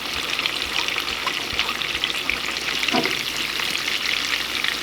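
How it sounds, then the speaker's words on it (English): Minced garlic frying in melted butter for a honey garlic sauce gives a steady, close crackling sizzle across the whole stretch, with a brief soft stir or scrape near the middle and no voices. "And we're going to fry it for about a minute."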